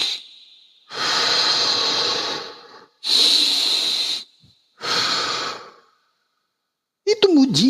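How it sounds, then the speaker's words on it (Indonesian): A person takes three slow, deep breaths close to the microphone, each a long airy rush in and out with short pauses between. A voice starts speaking at the end. "Coba kamu tarik nafas."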